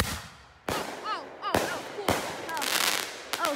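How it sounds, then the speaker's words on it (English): A run of outdoor night fireworks goes off in several sharp booms with whistling, screeching rockets and crackling sparkle between the bangs, loud and fairly close. "next fireworks are gonna come."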